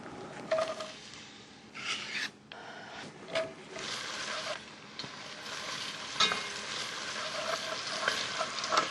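Chopped onion cooks in a pot as the flavor base for a macaroni and cheese sauce, giving a close, steady sizzle broken by occasional stirring scrapes and clinks, with no talking.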